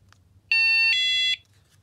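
A KERUI budget wireless alarm system emits a single loud electronic beep, a steady tonal chime lasting under a second that drops slightly in pitch midway, then stops cleanly.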